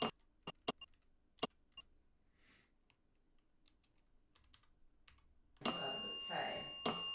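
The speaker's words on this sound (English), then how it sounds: "Rapid Fire Dead Bell." A Rapid Fire Dead Bell ghost-hunting device rings out with a sustained electronic tone mixed with rustling noise near the end, after a few sharp clicks and a stretch of near silence during a night investigation at Clover Hill Historic Village.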